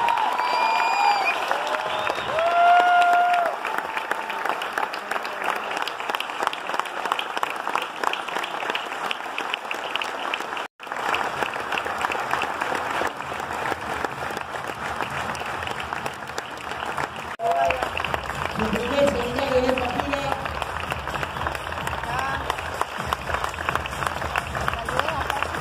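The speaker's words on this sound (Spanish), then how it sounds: "les pido un muy fuerte aplauso para Gianluca" Loud, sustained audience applause fills a theatre in Tigre, a dense steady wash of clapping across the whole stretch with scattered voices and a brief dip midway.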